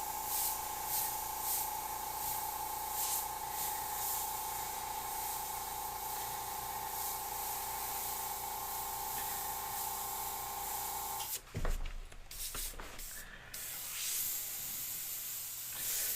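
An airbrush sprays paint onto a skull flag in a hot studio, giving a steady, close, airy hiss for about eleven seconds before it cuts out and a few brief knocks and handling noises follow.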